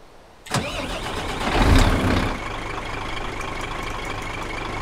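A truck engine in Euro Truck Simulator 2 cranks and catches, revving briefly before settling into a steady, rumbling idle; no voices.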